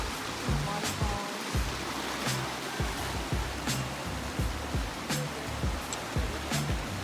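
Steady rushing water from small mountain streams and waterfalls among larches in the Enchantments backpacking area, a continuous broadband wash with faint footsteps and scuffs over it.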